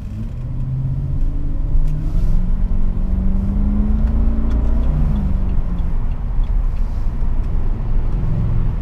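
A BMW 745i E65 V8 accelerates through city streets from the passenger seat, its deep engine rumble rising and shifting in pitch as it pulls smoothly, with steady road noise and no talk.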